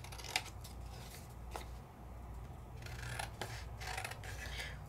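Scissors trimming a 3D embossing folder, a string of crisp close snips and rustles of the folder in uneven bursts over a quiet background.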